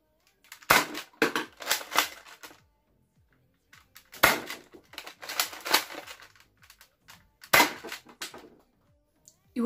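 X-Shot Hurricane toy blaster firing at targets, three separate bursts of sharp snapping shots and clattering impacts, each cluster a few quick pops, close and fairly loud with quiet gaps between.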